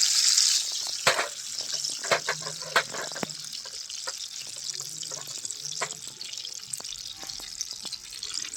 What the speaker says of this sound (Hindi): तो घी गर्म हो गया है तो फिर मैं इसमें ये काजू डालती हूँ।